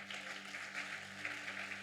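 A church congregation applauding, heard as a faint, steady wash of many hands clapping at a distance with no pauses.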